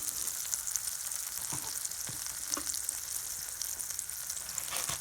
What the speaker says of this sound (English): So for a bit I'm going to fry these onions.